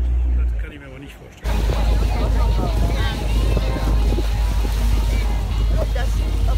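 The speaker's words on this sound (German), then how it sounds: "am Ende war es ein Katamaran, der uns hier abgeholt hat" Catamaran on a Sydney harbour cruise, with a steady engine and water rush and heavy wind buffeting the microphone throughout, after a brief quieter opening; no talk is heard.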